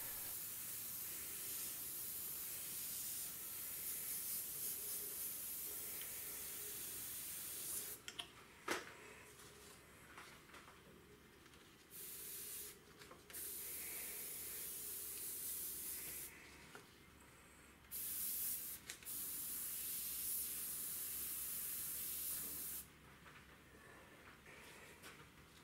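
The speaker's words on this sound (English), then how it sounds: "The airbrush that I'm using at the moment is the Iwata CMC Plus Micron" An Iwata CMC Plus Micron airbrush with a 0.23mm needle sprays paint in quiet, hissing bursts of varying length, with short pauses between passes.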